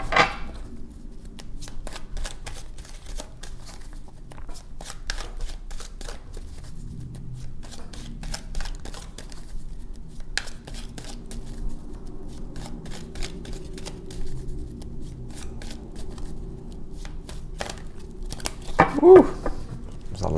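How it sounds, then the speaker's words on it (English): A deck of playing cards being shuffled at length, with repeated sharp riffle bursts and soft sliding patter running close by for about twenty seconds, with no talk over it. "It was a long shuffle."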